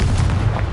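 Confringo blasting spell explosion in Hogwarts Legacy, a short, close, dense booming blast filling the whole moment with low rumble, no voice over it.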